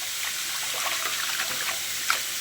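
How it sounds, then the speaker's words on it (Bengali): Leafy greens rinsed under running water in a kitchen sink, a steady close splashing trickle with small sloshes and drips, no talking. "তো চলো এবার আমি শাকটাকে ধুয়ে ফেলি।"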